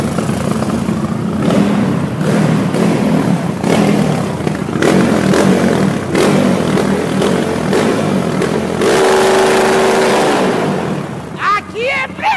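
A 351cc motorcycle engine fitted with a new exhaust idles and revs in repeated bursts, a loud close rumble rising and falling, with people talking nearby.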